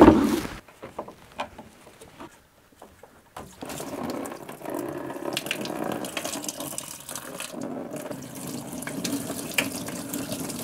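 Coolant draining from a car radiator's drain screw into a collecting container, a steady close trickling and splashing flow that starts after a faint mechanical rattle and quiet gap, running continuously to the end.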